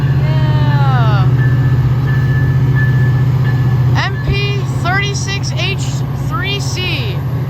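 A MARC commuter train led by an MP36H3C diesel locomotive hauling double-decker coaches rumbles past close by, a loud steady roar with squealing wheel tones, while people talk excitedly over it.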